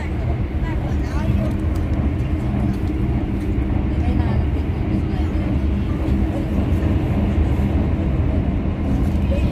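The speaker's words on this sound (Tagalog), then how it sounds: "Ito na kami sa train. Napakabilis niya." Steady low rumble and rattle of a moving train heard from inside a carriage, continuous and fairly loud, with faint voices underneath.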